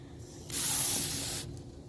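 A garden hose forces water through the small washer line of a Jeep Cherokee windshield washer system, producing one loud, steady hissing spray of about a second that starts and stops abruptly.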